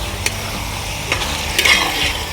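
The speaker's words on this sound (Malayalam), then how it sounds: "ഒരു കിലോ ചിക്കൻ ഉണ്ട് ഇതൊന്ന് വരട്ടിയെടുത്ത്" A kilo of chicken is stir-fried dry in a pan for Kerala-style chicken perattu: a close, steady sizzle with a few sharp scraping strokes of a spatula against the pan.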